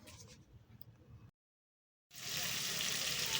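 Small fish stirred in a frying spice paste: a soft sizzle breaks into a brief dead silence, then resumes as a louder, steady close crackle.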